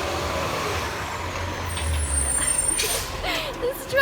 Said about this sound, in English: This truck is just following me around.